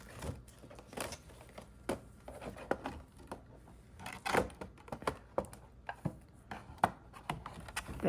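Scissors cutting a clear plastic acetate sheet for a floating window card, a close, quiet run of sharp clicking snips repeating every half second or so.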